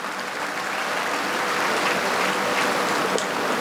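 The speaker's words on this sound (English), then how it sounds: "You can clap your hands as much as you want," Steady audience applause fills a large hall during a public speech by Sadhguru on saving rivers in Chennai, a dense, even patter of many hands clapping throughout with no break.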